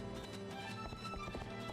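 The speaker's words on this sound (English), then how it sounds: "Hey, look, a horse with a cart." Hooves clop in a quick, steady rhythm, fairly faint, with a low rumble of moving wheels beneath, from a horse pulling a cart in The Legend of Zelda: Twilight Princess.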